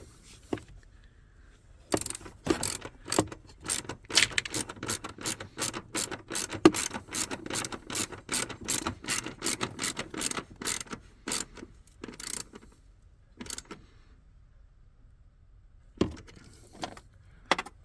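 A ratchet tightens the battery terminal on a Mercedes-Benz GLK 250 in rapid bursts of sharp metallic clicks, close and loud, with short pauses between runs and a few isolated clicks at the end.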